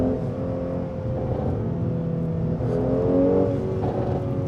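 A stock Mercedes-AMG C43 with factory engine and exhaust, no tune, revs in a steady rising drone, moderately close with a smooth layered engine note that swells slightly toward the end.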